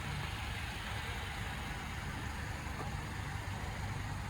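A 2022 Toyota Tacoma SR 2.7L engine idles quietly and evenly, a low steady rumble with no talking.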